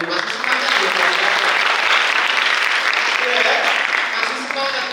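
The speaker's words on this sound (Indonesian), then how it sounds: "Tepuk tangan dulu, masih semangat ya." Seminar audience of students breaking into sustained applause, dense even clapping across the whole span, with a voice speaking over it near the end.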